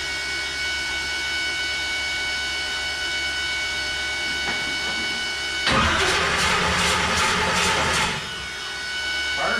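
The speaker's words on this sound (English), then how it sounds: "Starter sounds better." A car engine cranking over on a new starter with a fresh fuel pump and flex plate, a steady hum giving way to a loud, rough whirring crank for a couple of seconds before settling.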